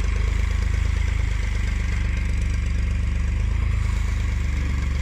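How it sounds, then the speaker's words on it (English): Farm tractor idling with a loaded trailer carrying large 400 kg straw bales, a steady close diesel engine rumble with a low throbbing pulse running unbroken throughout. "from the trailer of the tractor that is there, and this tractor with a fork in front"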